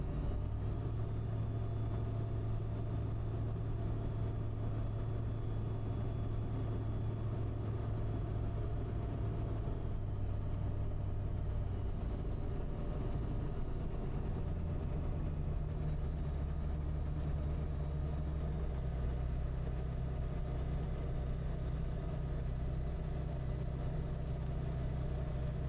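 A small aircraft's engine runs steadily on runway 28 during a run-up check, a continuous low droning hum with a shift in pitch midway, alone with no talk.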